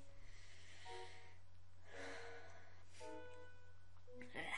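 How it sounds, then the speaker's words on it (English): Repeated nasal sniffs from a person with a bad cold or flu, a few close breathy bursts spread across several seconds over a low steady hum. "I'm gonna be sniffing a lot"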